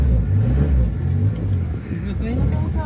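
A 1971 Ford Corcel's engine rumbles steadily while driving, a low continuous drone close by, with people talking over it.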